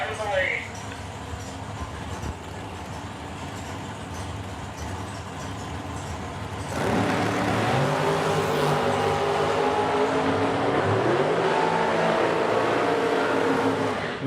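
Drag race cars running down a dragstrip in Edmonton, a distant engine drone at first, then a louder roar of accelerating engines with rising revs, with an announcer talking over much of it.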